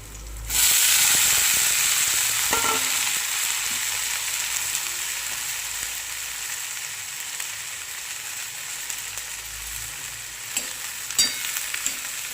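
Cluster beans fry in hot oil, giving a loud, continuous close sizzle and hiss that holds steady throughout, with a few faint stirring knocks near the end and no talk.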